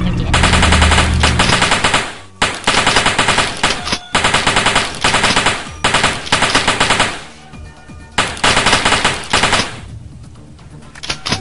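Rapid, loud bursts of pistol gunfire in the video game Balloon in a Wasteland, firing in quick strings with short pauses between volleys, close and dominant throughout.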